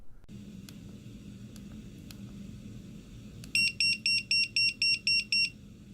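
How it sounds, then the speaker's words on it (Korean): A pager gives a rapid series of sharp electronic beeps in evenly spaced bursts over a steady low hum, loud and close, following a quieter stretch with faint clicks. "삐삐는 그 특유의 삐삐 소리 때문에 붙여진 이름인데요"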